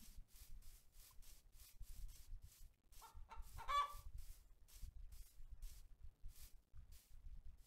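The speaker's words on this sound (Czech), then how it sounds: "Máme slepičku, bychom mohli samozřejmě zabít." A chicken clucks in the Minecraft video game, a few short soft clucks over a low scraping background, fairly quiet.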